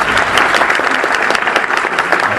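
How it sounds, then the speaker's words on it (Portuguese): Loud, dense applause from an audience after a talk on meditation and stress, a steady wash of clapping from many hands close by with no voices over it. "uma salva de palmas"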